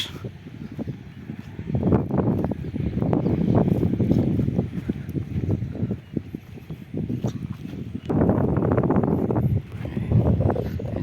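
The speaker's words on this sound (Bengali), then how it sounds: "প্রচুর বাতাস।" Strong wind sweeps across an open haor wetland where people are fishing, buffeting hard with loud low roaring gusts that rise and fall throughout.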